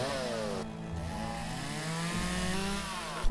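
A chainsaw cuts through a log in the logging game Lumberjack's Dynasty. The engine drones close and loud without a break, its pitch shifting slightly as it bites into the wood, and there is no talking.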